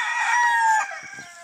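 A Bantam Polish rooster crows loudly and close, a single stretched call that trails off, followed by a few soft clucks.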